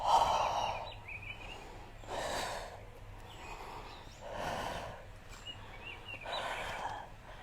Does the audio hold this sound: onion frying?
no